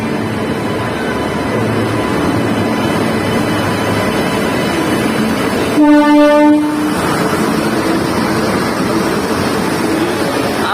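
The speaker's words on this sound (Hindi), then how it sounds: "मेरे पीछे आप लोग जो ट्रेन देख रहे हैं ये है देश की पहली अमृत भारत एक्सप्रेस, जो कि खड़ी है अयोध्या कैंट पे।" The Amrit Bharat Express train stands at Ayodhya Cantt station under a steady loud rumble of rail noise, and a train horn sounds one clear tonal blast of about a second near the middle.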